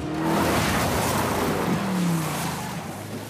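A car engine in Uncharted 4 roars steadily and loudly at close range, swelling into a rev and then easing off with a faint squeal near the end.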